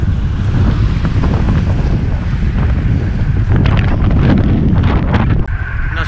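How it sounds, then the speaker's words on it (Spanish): Strong wind blasts across the microphone of a cyclist riding on flat road, a loud, continuous buffeting rumble that gusts and shifts in strength and briefly eases near the end. "es que hace mucho viento"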